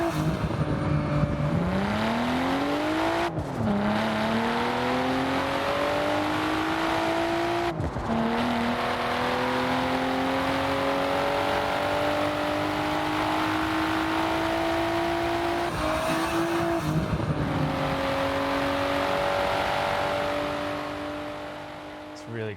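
Car engine in the racing game Forza Horizon 4 revving steadily through several rising gear pulls, each climb broken by a brief shift gap, loud and continuous throughout before tapering off at the end.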